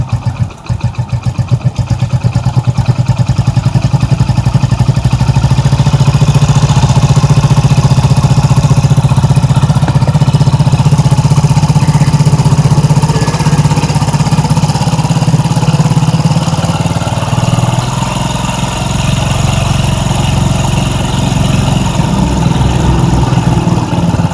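A Hero Splendor Pro motorcycle engine runs steadily at idle, a loud, continuous low rumble close by that holds for the whole stretch with only slight shifts in pitch, no voices over it.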